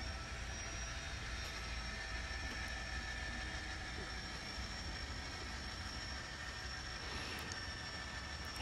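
Diesel switcher locomotive running around its train during holiday switching moves in Chillicothe, a steady broad rumble and hum held at constant loudness, with no voices.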